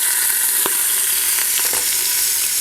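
Beef short ribs sear in an Instant Pot with a loud, constant close sizzle, broken by a few brief clicks and taps as meat is added.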